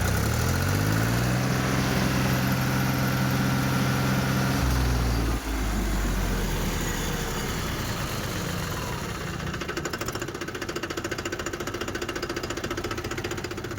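A tractor engine chugs at idle with a low steady drone that cuts out partway, leaving rattling, vibrating mechanical noise.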